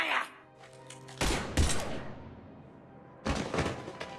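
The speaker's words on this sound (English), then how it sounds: "Now open fire!" Two loud bursts of gunfire in the sci-fi shooter game Mass Effect 3, each a cluster of sharp cracks with a decaying rumble, separated by a quieter stretch and preceded by a brief bit of talking.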